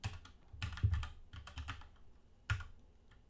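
Keys clatter on a computer keyboard in quick irregular bursts with short pauses while typing CSS code, close and fairly quiet, no voices.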